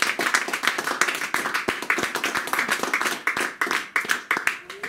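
A church congregation claps in a steady, brisk rhythm, many hands striking together in even, repeated beats that continue throughout.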